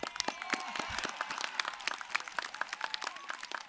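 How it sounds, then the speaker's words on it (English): An audience applauds at a Class of 2019 graduation commencement ceremony: dense, steady clapping from many hands at close to mid distance, with sharp individual claps standing out throughout, and no talking. "You can clap."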